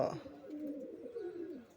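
Pigeons let out low, rolling coos that carry on through the short stretch, close by and moderately loud, with a brief burst of brighter sound at the start.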